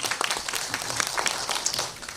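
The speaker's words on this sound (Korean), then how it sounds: "박수가 나오네요. 박수해 주실까요?" Audience at the 60th Baeksang Arts Awards ceremony applauding, a soft, diffuse patter of many hands that stays fairly distant and low in level, steady throughout with no clear voices on top.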